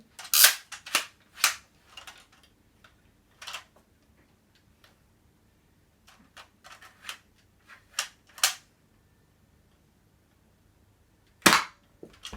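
A Nerf sniper toy gun fires in a series of sharp, snappy clicks and pops, spaced irregularly with quiet gaps between them.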